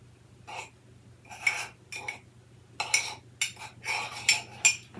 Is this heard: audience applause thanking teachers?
no